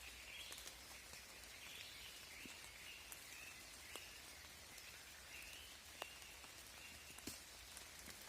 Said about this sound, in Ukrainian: І дощ паде